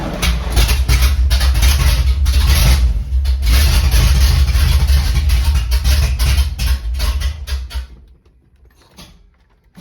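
A Project K10 car engine, long dormant and now on a battery charger, cranks and runs unevenly at close range, loud and rough for about eight seconds before cutting out into near silence.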